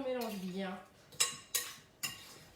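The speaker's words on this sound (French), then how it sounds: "On mélange bien" Star anise and cinnamon stirred in a pan with a utensil, a soft scrape followed by three distinct metallic knocks against the pan, fairly faint and unhurried.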